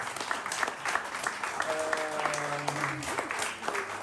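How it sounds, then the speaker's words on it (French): An audience applauds young readers at a children's book event, continuous crowd clapping with a brief tonal whistle or feedback line sounding through the middle. "on peut les applaudir"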